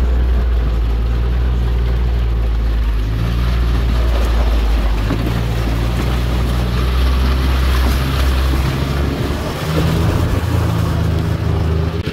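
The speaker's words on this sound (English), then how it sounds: "there's a little pump in that box. You can hear it pumping in there." A small pump inside a box on a tanker rig pumps liquid into a tank, producing a loud, steady low mechanical drone that runs unbroken from start to end with no voices.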